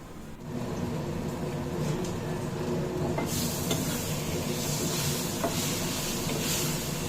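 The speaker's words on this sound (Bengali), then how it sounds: "এখানে আমি প্রথমে সাদা জিরে ফোড়ন দিয়ে আলুটা দিয়ে দিলাম" Cumin seeds and potato pieces tempering in hot oil in a home kitchen, a steady close sizzle and hiss with occasional stirring scrapes, growing brighter partway through.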